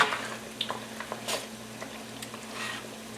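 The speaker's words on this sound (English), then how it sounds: "bring this to a really good boil for about a minute" Homemade raspberry and Saskatoon jam at a hard boil in the pot: quiet, close bubbling and soft crackling with scattered small pops over a steady low hum.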